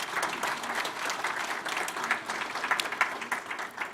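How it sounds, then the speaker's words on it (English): Audience at a mosque's annual fundraiser applauds a speaker, Dr. Kharazi: a sustained, moderately loud patter of many hands with slight swells and scattered sharper claps standing out. "Round of applause for Dr. Kharazi"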